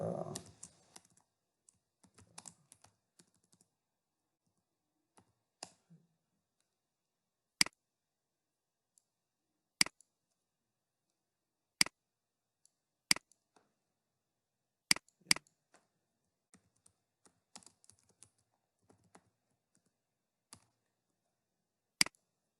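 Isolated, sharp mouse clicks during a computer software demo, about a dozen spaced irregularly across a quiet room, with a little soft handling noise at the start.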